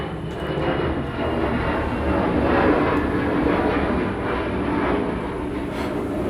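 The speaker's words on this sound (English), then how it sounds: "Just like the plane that flew by" A plane flies past outdoors, giving a steady, continuous broadband roar that swells gently and then holds over several seconds, with no talking.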